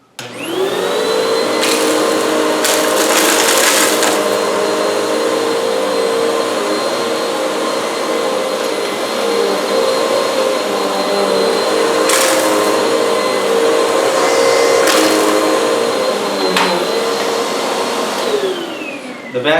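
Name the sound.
Bissell CleanView OnePass vacuum cleaner on high pile carpet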